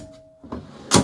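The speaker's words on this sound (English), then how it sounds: "4 drawers on each side. With marine grade stainless latches." Stainless marine-grade latch and storage drawer on a Mitsubishi Fuso Earthcruiser FX overland vehicle, heard as a brief metallic click and slide ending in a sharp close, near and fairly loud.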